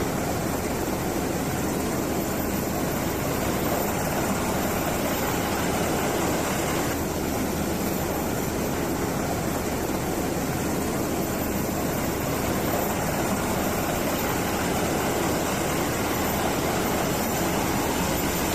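Rotor wash from a Coast Guard helicopter during an airlift at sea, heard as a continuous loud roar of rushing air and engine noise with no letup.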